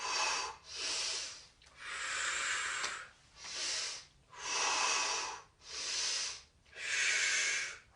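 Deep, slow breathing during chair yoga: about seven close, airy breaths alternating inhale and exhale in a steady rhythm, with no talking.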